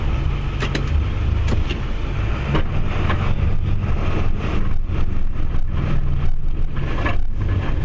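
A Ford Super Duty F250 truck with the 7.3 Powerstroke diesel engine rumbles steadily while out snowplowing, with a loud low drone and scattered clicks and knocks over it.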